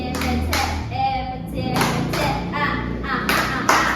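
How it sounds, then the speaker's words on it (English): A class of schoolchildren in a science lesson claps together in short rhythmic bursts, with several loud group claps separated by brief pauses, close and fairly loud. "Let's give Noy a EPT clap."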